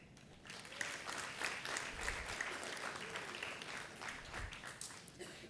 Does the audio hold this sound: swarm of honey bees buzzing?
no